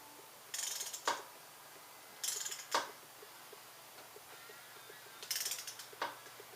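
A ratchet wrench works the fork bolts on a 1996 Yamaha YZF600 motorcycle. Three separate bursts of crisp pawl clicking are each followed by a sharp click, with quiet gaps between them, close and clear.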